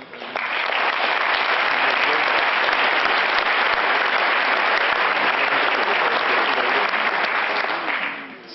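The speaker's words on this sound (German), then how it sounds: "Applaus" A large audience at a panel discussion breaks into loud, sustained applause that swells quickly, holds dense and even for several seconds, then tapers off.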